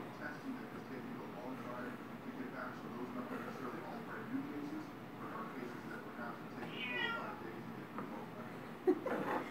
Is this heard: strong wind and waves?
no